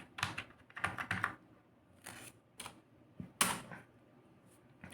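Computer keyboard typing while entering data in Tally Prime accounting software, heard as a few quick clusters of close, crisp key clicks separated by short pauses.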